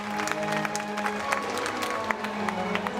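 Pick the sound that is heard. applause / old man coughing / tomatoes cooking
applause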